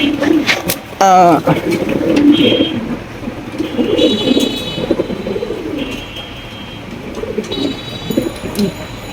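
A pair of black checker Mondi pigeons coo repeatedly in low, throaty rolls close by, with someone talking over them and a few sharper chirps from other birds in the background.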